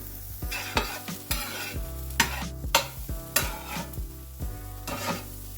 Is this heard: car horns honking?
no